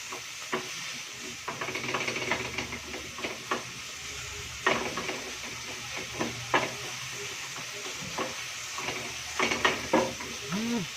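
Food stirred and fried in a pan, with a continuous sizzle broken by repeated scraping and clinking strokes of a utensil against the pan, close and fairly loud.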